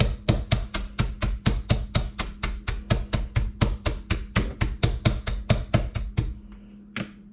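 Dry chicken feed being crushed in a steady run of about twenty-five sharp, evenly spaced crunching strikes, loud and close, ending with one last knock.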